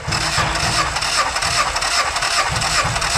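A Lada Vesta 1.8 engine turns over on the starter during a compression test, giving a close, steady train of rhythmic cranking pulses that runs for the whole stretch without speech.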